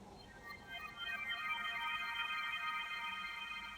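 Two Vital synthesizer notes with reverb and EQ, forming a wide, washy ambient tone that blooms and sustains evenly over a hazy noise bed, quiet with no speech.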